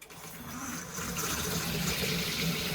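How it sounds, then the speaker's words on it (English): Cold water gushing from a newly replaced plastic RV bathroom faucet into the sink, starting softly and building to a steady, close rush of running water with no talking. "I'm going to go ahead and open the cold water first."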